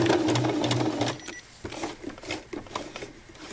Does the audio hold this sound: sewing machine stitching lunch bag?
yes